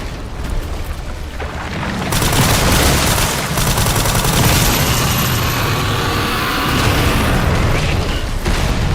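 Gunshots fired at orbs in Resident Evil 9, a loud, continuous barrage of shots and booming impacts with no break in the action.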